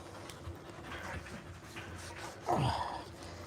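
A dog pants and gives a brief whimpering whine while being bathed, the sounds fairly close and mixed with splashing and handling noise, with a louder whine rising near the end.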